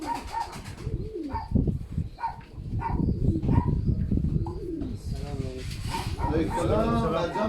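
Pigeons cooing close by in a coop in a low, murmuring chorus, with people talking over them throughout.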